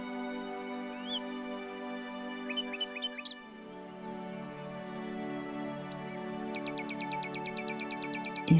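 Songbirds sing in bright, repeated chirps and trilled phrases over a steady layered drone, with bursts clustered early and a long rapid trill near the end.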